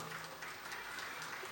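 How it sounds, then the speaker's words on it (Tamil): Audience applause for children standing on a stage fills the space as a steady, dense wash of clapping that keeps on without a break. "நல்ல ஒரு பெரிய கைத்தட்டல் கொடுத்துடலாமா?"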